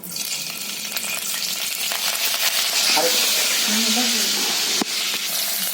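Onion hitting hot oil in a pan for a spiced okra-and-yogurt curry, a steady loud sizzle and crackle that runs throughout with a brief stirring clatter near the end.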